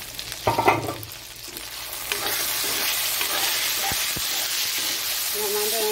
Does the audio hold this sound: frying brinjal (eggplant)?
yes